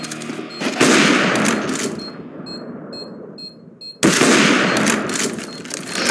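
Rapid gunfire from Counter-Strike: Global Offensive, loud bursts of shots that break off, leaving a quieter stretch with small electronic beeps, then another loud volley.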